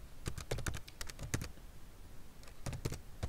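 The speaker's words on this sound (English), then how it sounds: "Let's say we don't want to manually type Malachi" Fingers type on a computer keyboard in quick, irregular clusters of soft clicks, close by and fairly quiet, with a short pause in the middle.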